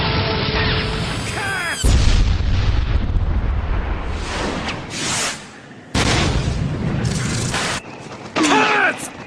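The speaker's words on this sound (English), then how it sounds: "Deidara's quote to detonate his clay is "Katsu." Cartoonish anime explosions from Naruto, a clay bomb detonating in a series of loud, broad booms and bursts, with a couple of sharp blasts and brief gaps between them, over busy background sound.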